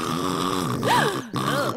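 A loud snore from a man sleeping outdoors in a park, with a long, rough, grunting rasp that rises and falls, a short pause, then a second drawn-out snort.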